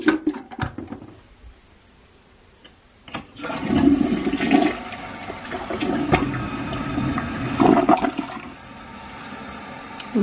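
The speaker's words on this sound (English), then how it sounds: "It's a toilet after all, right? And then we are gonna go ahead and flush it." A toilet freshly cleaned with homemade essential-oil toilet bombs flushes loudly nearby. There are a few clicks first, then a rushing swirl of water that drains and settles into a quieter refill, with no speech.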